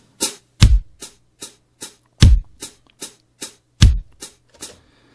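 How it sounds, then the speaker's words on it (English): Hi-hat strikes programmed in Sonar for a drum track, a dozen crisp ticks in an even pulse, with every fourth hit heavier and carrying a low thump, close and dry with no talk. "So we find a good hi-hat sound."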